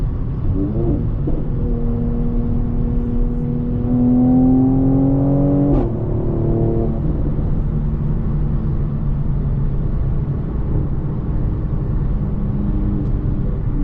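A 430 hp Stage 1 Mercedes C43 coupe, heard from inside, drones as revs climb steadily, then a sharp downshift jolts the engine note before it settles into a loud, continuous turbocharged rumble under acceleration.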